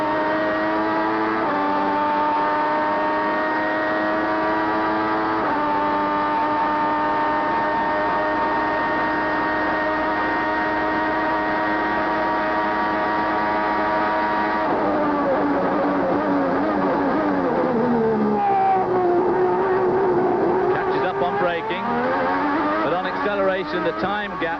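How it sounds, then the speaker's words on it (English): Onboard Ferrari V12 Formula 1 engine at the 1989 German Grand Prix, a loud sustained high-pitched wail holding steady, then dropping and climbing through downshifts and sharp revving near the end, with commentary talking over it. "But just listen to that V12 from his viewpoint."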